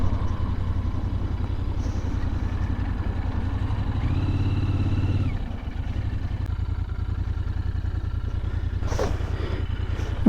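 Royal Enfield Continental GT650 motorcycle on a test ride, a steady close engine drone with rushing wind throughout, the engine note rising briefly near the middle before settling back, no talk.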